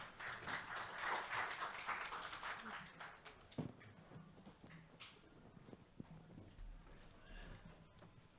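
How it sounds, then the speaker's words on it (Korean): Clapping from a conference audience at the kt cloud Summit 2023 tech event, dense and steady for about three seconds before fading into quieter, scattered claps and room noise. "큰 박수 부탁드리겠습니다"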